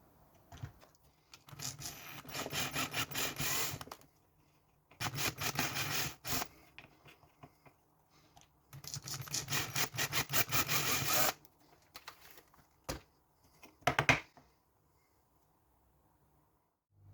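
Small drill boring and tapping holes in the end cap of an RC model motor, enlarging them to 3mm for M3 screws: three bursts of close, whirring, scraping drilling, each a few seconds long, separated by pauses, then a few brief clicks and taps.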